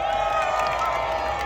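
A crowd cheers at a county fair pig race, a dense, steady roar of many voices with shouts mixed in.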